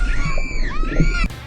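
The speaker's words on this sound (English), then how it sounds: "Where the kids are screaming when you unleash like a T-Rex or something." Panicked screaming from an indie video game, a shrill wavering cry that bends up and down for just over a second, loud and close, then cuts off abruptly.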